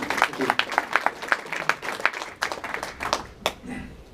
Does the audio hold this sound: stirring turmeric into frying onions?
no